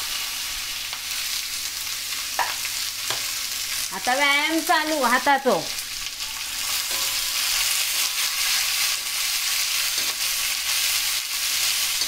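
Onions and cumin frying in a cast iron kadhai and tava over a high flame, a steady broadband sizzle running throughout, with a brief tonal clatter midway and a voice speaking over the cooking.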